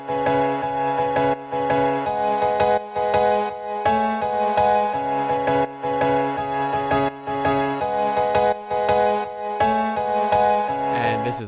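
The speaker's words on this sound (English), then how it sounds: "but now I have like this sidechain piano playing." Sidechained piano in a Porter Robinson-style electronic track, repeating the same notes in a triple groove, each chord pumping and ducking rhythmically in a steady loop, bright and loud with no voices.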